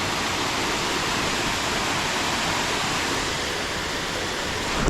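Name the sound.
rain falling on water surface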